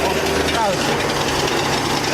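A Chinese-made electric shaker-style crusher with a copper motor, rated for 210 volts and up, starting: a dense, steady mechanical roar and hum running throughout, loud and close.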